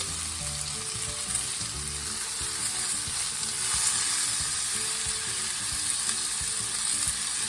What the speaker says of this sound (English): start cooking the ground beef down